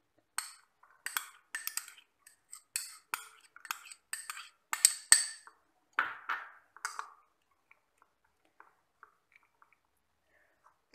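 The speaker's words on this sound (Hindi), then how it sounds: "इसके लिए सबसे पहले हम एक बड़ा बाउल लेंगे और इसमें कटी हुई प्याज और शिमला मिर्च को मिक्स कर लेंगे" Chopped onion and capsicum tossed together in a large bowl with a utensil, giving a run of close, irregular clinks and taps against the bowl that thin out into a few scattered soft knocks before quiet.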